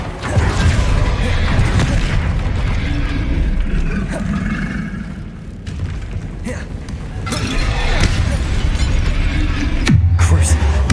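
A Bombarda spell explosion in Hogwarts Legacy lands as heavy booms and shattering crashes within a dense, continuous wash of spell-combat noise, ending with a deep low thud.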